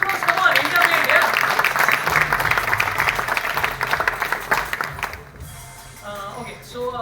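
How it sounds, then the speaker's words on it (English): An audience at a product launch event for an Indian streaming device claps loudly for about five seconds, the applause fading as a presenter's voice takes over. "Round of applause, come on, India made, yeah."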